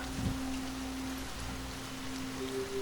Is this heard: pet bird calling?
no